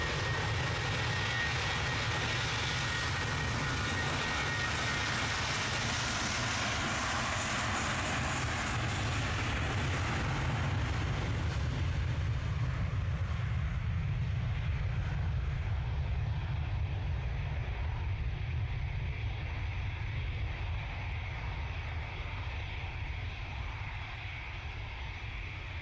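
An airliner takes off from runway 23 left at Manchester Airport, its engine roar loud and steady at first, then fading gradually as it climbs away, with no voices.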